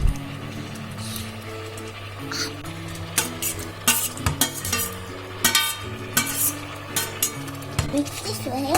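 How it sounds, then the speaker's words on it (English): Onion and capsicum stirred in a kadai for kadai paneer, with repeated scraping and clinking of a utensil against the pan over a steady low sizzle, sharp metallic taps recurring every second or so. "Add onion and capsicum."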